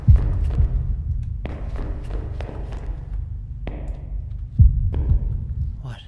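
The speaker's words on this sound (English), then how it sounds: "What's with the heartbeat?" Low, heavy heartbeat thuds pulse steadily through a tense horror video game called Deppart, with a few louder throbs standing out over a dull ambient rumble.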